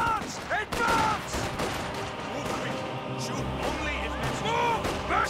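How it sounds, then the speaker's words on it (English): Heavy machine gun fire rattles in Company of Heroes, dense bursts of battlefield gunfire and thuds running throughout under shouted soldier voices. "Taking effective HMG fire!"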